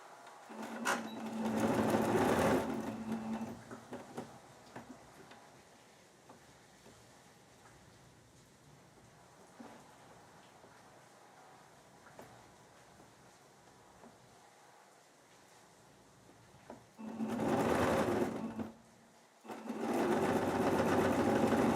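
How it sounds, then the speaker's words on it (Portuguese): Sewing machine stitching two overlapping fabric pieces for a beginner's rag doll, heard in two loud bursts at the start and end of the clip, with a quiet stretch of soft handling noise between them. "E vou passar a costurinha aqui"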